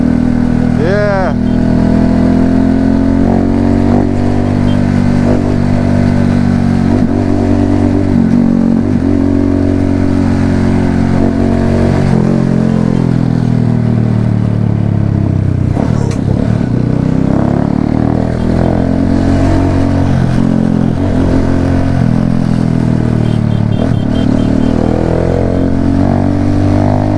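A motorcycle rides through Spanish Town, St Catherine in Jamaica, its engine loud and close, rising and falling as it revs and accelerates, with wind rumble and people talking over it.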